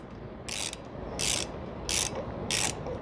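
A ratchet tool drives screws into a screen cowl on a Honda Rebel 1100 motorcycle, with four evenly spaced bursts of fast clicking ratcheting over a steady background hum, close and fairly loud.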